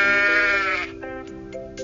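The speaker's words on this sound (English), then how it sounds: "And there's a sheep. What's a sheep say?" A sheep bleats in a children's animal-sounds game, a drawn-out, wavering baa followed by shorter, softer bleats, heard close and clear with no other noise.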